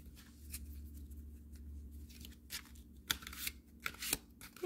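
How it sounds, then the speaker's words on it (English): Large oracle cards being shuffled close up: a series of soft riffling and flicking bursts, growing louder toward the end, with no talking. "let's see how these are to shuffle."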